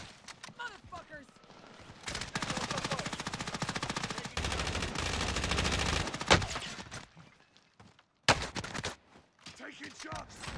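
Rapid automatic SMG bursts ring out in a Call of Duty: Warzone Resurgence trios match, a long sustained string of fire followed by shorter bursts, loud and close, with some game voice chatter mixed in.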